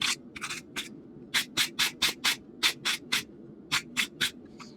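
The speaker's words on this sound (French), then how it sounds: "Un petit coup de brosse, virer la calamine." A wire brush scrubs forge scale off a freshly forged iron nail header in a run of brisk, close strokes. The rasping scrapes come in short groups with brief pauses between them, and no one speaks.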